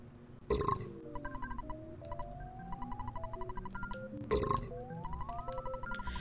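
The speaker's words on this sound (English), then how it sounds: "An entire track of sound or music had to be cleared just for the burp effect." Cartoonish burp sound effect from the video game EarthBound, two long warbling belches, each opening with a sharp attack and followed by rising electronic tones, alone without talk.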